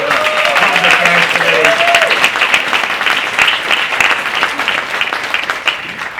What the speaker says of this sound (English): let's give a big round of applause to the chair of the Public Affairs